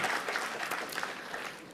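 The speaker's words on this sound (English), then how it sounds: "So put a big round of applause for yourself" Audience at a college orientation function applauding, a steady dense wash of many hands clapping at moderate level, with no speech over it.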